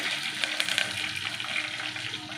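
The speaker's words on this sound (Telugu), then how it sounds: "కరివేపాకు వేసేసుకున్నాను" Curry leaves crackle and sizzle in hot oil for a rasam tempering, a continuous close frying hiss dotted with sharp pops and spatters.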